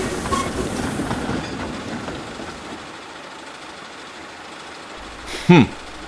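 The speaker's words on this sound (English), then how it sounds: "soon Murdoch shrieked through with a heavy goods train." A heavy goods train rumbles past with rattling wagons, fading gradually into the distance, then a brief squeal or whistle near the end.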